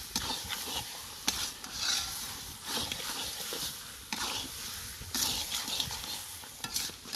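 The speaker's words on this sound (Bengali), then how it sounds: "এবার একটু মিট মশলা দিয়ে আরও ভালো করে কষিয়ে নেব।" Mutton is stir-fried with meat masala in a pan, a sizzling fry under repeated scraping stir strokes and sharp utensil clicks, close and continuous with no talk.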